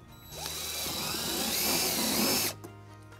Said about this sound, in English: we're gonna drill our first hole using a 1/4-inch drill bit